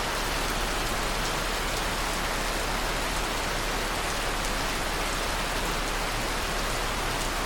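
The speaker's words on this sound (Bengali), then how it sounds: "কি বৃষ্টি!" Heavy monsoon rain pours steadily in Bandarban or Cox's Bazar, a dense, even roar of drops beating on surfaces without a break and with no voices.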